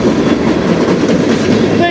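A train rolls past on the Strathroy Subdivision, loud and close, with a continuous heavy rumble and a faint rhythmic clatter of railcars over the whole stretch.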